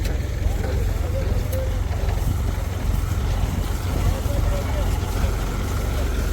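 A tractor engine drones steadily while a 48-inch bed digger lifts potatoes in a field. The low, constant rumble stays up close as someone talks over it.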